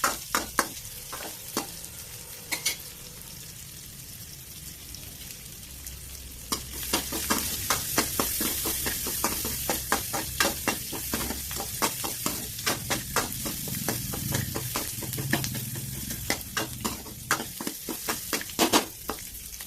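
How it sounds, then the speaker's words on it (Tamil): Chopped onions sauté in a pan for a jackfruit tamarind curry, a soft sizzle under repeated rhythmic scraping and clacking of a spoon stirring, the strokes quickening and growing denser in the second half. "இது நல்லா கிண்டி விட்டுக்கோங்க. வெங்காயம் நல்லா வதங்கட்டும்."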